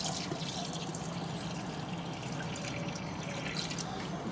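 Coolant trickles and drips into the header tank of a Mk2 Volkswagen Golf during a coolant change, a faint, steady watery patter with soft bubbling, quiet and close, no one speaking.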